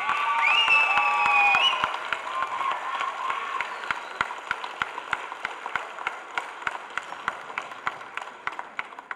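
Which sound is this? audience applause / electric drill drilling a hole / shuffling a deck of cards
audience applause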